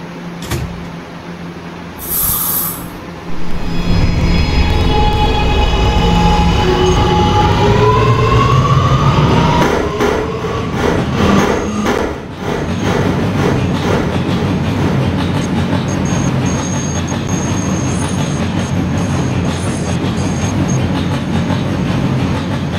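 A Roblox subway simulation of an R211A R train runs loudly and close. An electronic door chime sounds first, then a rising motor whine as the train accelerates. The whine settles into a steady rumble with rhythmic clicks over the rails.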